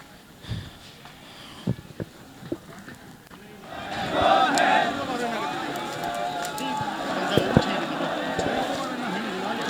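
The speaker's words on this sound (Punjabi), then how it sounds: "ਸੋ ਜੈਕਾਰਿਆਂ ਦੀ ਗੂੰਜ ਦੇ ਨਾਲ" Crowd of Sikh mourners at Deep Sidhu's funeral procession raising jaikara slogans. Scattered faint voices first, then from about four seconds a loud, sustained massed shout continues to the end.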